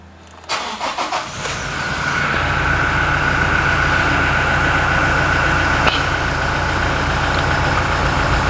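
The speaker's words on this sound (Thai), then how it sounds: "เดี๋ยวผมขอสตาร์ทเครื่องสักครู่นะครับผม" A 2017 Toyota Hilux Revo 2.4 G automatic pickup cranks and fires after a brief quiet moment, then settles into a steady, close idle that hums on without a break.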